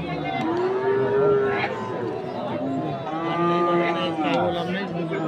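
Cows low repeatedly at a busy rural cattle market in Ambari, where Friesian heifers are being sold. Several long, drawn-out moos rise and fall over a steady background murmur of the crowd.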